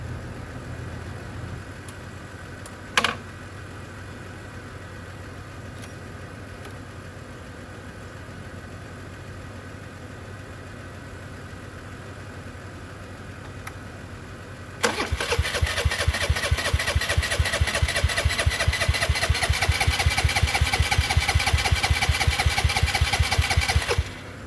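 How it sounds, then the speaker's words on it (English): A high-mileage Vespa LX 150 scooter with a dirty carburetor, freshly refuelled, is cranked after a quiet stretch with a single click; the starter then grinds in a fast, even, loud churning rhythm for about ten seconds without the engine catching. "I slightly cleaned up the carburetor, and now I'm just attempting a startup"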